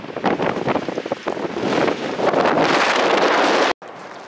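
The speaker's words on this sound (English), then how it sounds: "it's so windy" Strong gusts of wind buffet the microphone in a loud, roaring rush that builds, cuts out abruptly near the end, then returns faintly.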